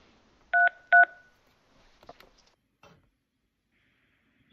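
A telephone keypad on a logged-in phone dials 933 during a test call to an E911 service, producing two short, clear DTMF beeps close together. Quiet clicks follow, and another tone starts at the very end.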